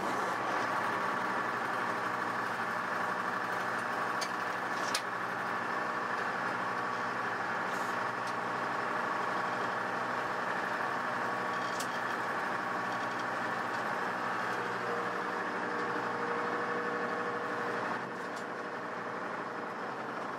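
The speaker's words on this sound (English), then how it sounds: "you do need to turn the vehicle on." An M113A1 armored personnel carrier's engine running, a steady low idling drone held at a constant level with a few faint clicks over it.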